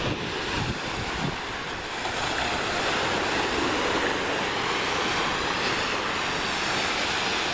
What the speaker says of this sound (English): Down here, the restless ocean.